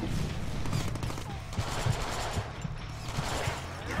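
Rapid bursts of gunfire crackle through a Deadpool video game battle against Sinister's clones, loud and continuous, with a soldier firing from a high ledge, all under a muddy wash of game noise.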